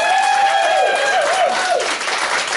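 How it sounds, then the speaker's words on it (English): An audience applauds and cheers at a comedy talk show for guest Mike Murray, a steady wash of clapping up close with a whistle or whoop rising and falling across the first two seconds. "give a round of applause for Mike Murray"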